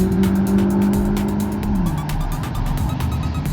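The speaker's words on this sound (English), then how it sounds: "That's a Pontiac." A black Pontiac muscle car rolls past at an Old Town Kissimmee car show in Florida, its engine a loud, steady low rumble. The pitch drops slightly partway through as it moves away, and crowd noise stays in the background.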